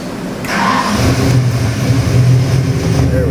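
A 302 EFI crate engine fitted in a 1958 Ford Custom 300 starts up, then holds a steady, loud idle that rises slightly and settles back down, close by and with no talk over it.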